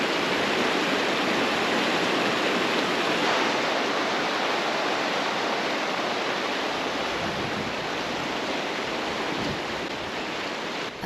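A mountain creek on Colorado's Independence Pass rushes beneath a metal bridge, a dense, steady roar of flowing water heard close and loud without pause, with no talking.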